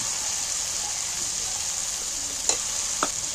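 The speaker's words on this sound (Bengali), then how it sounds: "এইবার আমি ভেজে রাখা আলুগুলো তুলে দিচ্ছি" Fried potatoes being added to a pan of oil and spice masala, producing a steady, even sizzle with a couple of sharp clinks of a utensil near the end.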